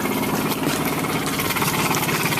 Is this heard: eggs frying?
no